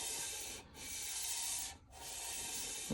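Stainless steel flat being sanded by hand with sandpaper: steady, close abrasive rubbing strokes in three long passes separated by brief pauses, ending with a small knock.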